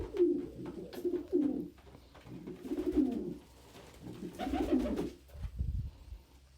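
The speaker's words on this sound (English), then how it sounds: "Think of all the birds here right now, Gus and Puddin' love me the most." Pet pigeons or doves give a series of soft, close cooing phrases, several rounded bursts spaced a second or two apart, with a low thump near the end and no talk.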